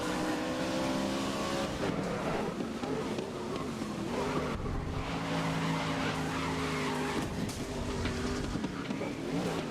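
Race car engines roar steadily in a racing video game on a wet track, with tire skidding and squeal woven through the continuous engine drone, loud and close throughout.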